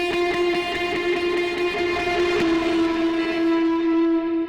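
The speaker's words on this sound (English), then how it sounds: "this guitar lead progresses towards the end, the distortion becomes more intense" A sustained, heavily distorted lead tone holds one pitch, swelling and washing out into a long reverb tail.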